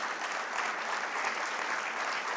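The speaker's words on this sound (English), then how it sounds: "And a loud round of applause for that," Loud, steady round of applause from a conference audience at an economic policy dialogue in Pune, India, sustained evenly throughout without talk.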